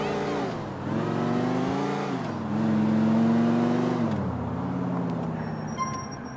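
Car engines drone and rev in traffic in GTA 4 set in a virtual New York, with pitch rising and falling as vehicles accelerate, loud and steady, while a voice talks over it.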